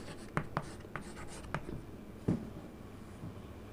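Chalk or marker strokes on a classroom board during a Hindi-medium English grammar lesson, a handful of short sharp taps and scratches spaced irregularly, fairly close and clear with no talking over them.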